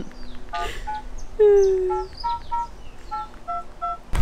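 Keypad tones from a flip phone beep in a quick series as a number is dialed, each short electronic tone spaced irregularly, with one longer tone and faint background noise around them.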